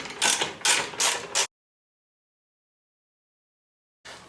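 A socket ratchet loosens a 3/8 inch bolt on motorcycle handlebars, a 2016 Tri Glide. Close, crisp bursts of rapid clicking come in three quick strokes, then silence, then another burst starts at the end.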